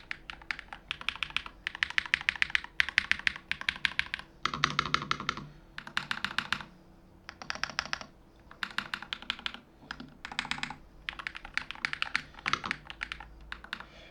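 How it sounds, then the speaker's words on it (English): Fast typing on a YUNZII RT75 PRO keyboard with Hall effect magnetic switches: crisp, close clacking keystrokes in quick bursts separated by short pauses, with a few heavier thunks, and no voices. "This is how the keyboard sounds like."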